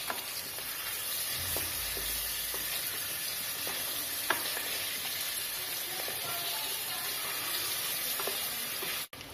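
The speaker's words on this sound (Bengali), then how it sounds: "এবারে দিয়ে দিচ্ছি ম্যারিনেট করা চিকেনটা। চিকেনটা একটু নেড়ে দিচ্ছি।" Marinated chicken for Hyderabadi chicken sizzles loudly and evenly in a pan while a spoon stirs it, with occasional light clinks over the constant frying hiss.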